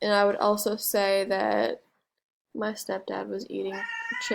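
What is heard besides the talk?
pet cat meowing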